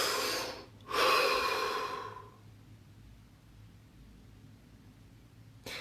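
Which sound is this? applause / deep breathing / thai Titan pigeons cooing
deep breathing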